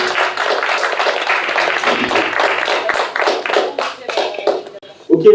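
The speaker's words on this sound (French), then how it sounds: "Donc on peut applaudir encore les candidats" A small audience at a youth environmental festival event applauds the candidates and student winners, with fairly distinct, loose claps close by that taper off near the end.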